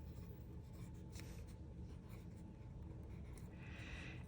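Faint, close scratching of a TWSBI Diamond fountain pen with a broad nib gliding across paper, soft continuous strokes with a few brighter scrapes near the end, no voices.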